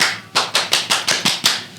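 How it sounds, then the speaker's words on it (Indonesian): An Indonesian scout group claps the tepuk pramuka rhythm, seven crisp, evenly spaced claps after a short pause, close and clear with no talking. "Ya, tepuk pramuka satu kali aja ya."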